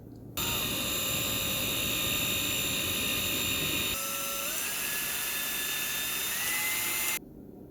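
A power drill bores into a workpiece lubricated with vegetable oil in a shed, whining loud and continuous for about seven seconds with a slight pitch shift midway, then stopping abruptly.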